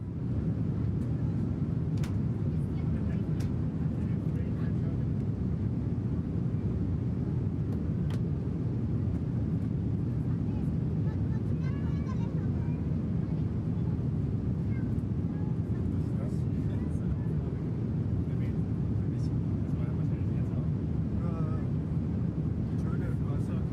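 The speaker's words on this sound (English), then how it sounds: "And engine number 4 should come to life momentarily." Steady low jet-engine rumble from engine number 4 spooling up on an iniBuilds A340-300 airliner in Microsoft Flight Simulator 2024, continuous and droning, with someone talking over it.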